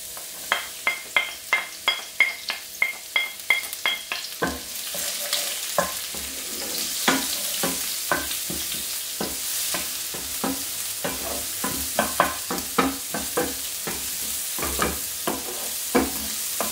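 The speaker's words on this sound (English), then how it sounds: "I'm gonna add a bit of oil to this because I'm gonna sweat these onion, garlic, sweat them off a bit." Onion and garlic sweat in oil in a frying pan, with steady close sizzling broken by a run of rhythmic scraping stirs at the start and more bursts of stirring later.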